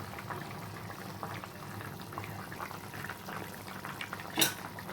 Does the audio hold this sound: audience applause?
no